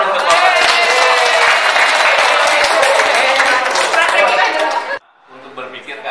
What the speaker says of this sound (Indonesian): ya kita tepuk tangan untuk Bapak.